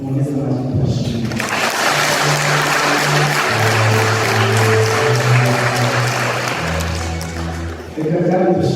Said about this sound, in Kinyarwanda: Mu neza amashyi tubashimire